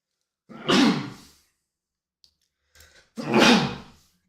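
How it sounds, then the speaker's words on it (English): Two loud, close sneezes about two seconds apart, each a sharp burst trailing off, with a faint breath in the quiet between them. "You know you worked out hard when the sneezes start to hurt."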